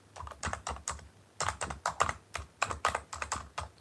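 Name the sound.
typing on a quiet computer keyboard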